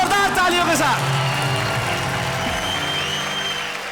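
Studio audience applause welcoming a special guest on a Hindi comedy-music show, loud and continuous with cheering and music mixed in, fading slightly toward the end.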